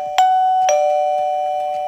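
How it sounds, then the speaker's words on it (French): A mains-powered wifi smart doorbell chime sounds two loud, bright ding-dong strikes close by, each tone ringing on and slowly fading with no voices. "c'est juste l'utilisation du carillon"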